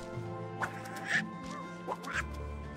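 Donald Duck quacks repeatedly in the video game Disney Illusion Island, several short raspy calls spread over a few seconds above steady game music.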